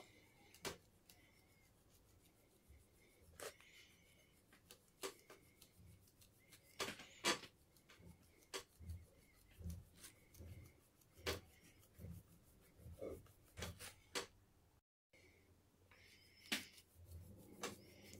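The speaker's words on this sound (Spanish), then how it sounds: "Después, un destornillador de paleta, tienen que abrir la orilla." A flat-blade screwdriver works along the edge of a shoe sole to open the stitching groove by hand, giving a series of sharp scraping and scratching strokes, irregular and close, with soft rubbing between them.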